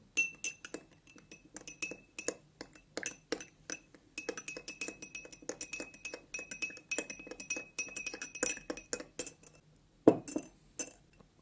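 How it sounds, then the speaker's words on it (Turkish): A spoon stirs Lipton instant tea powder in a glass, giving a rapid, steady run of bright clinks and taps against the glass with no talking. "Bir tık daha karıştıralım şöyle"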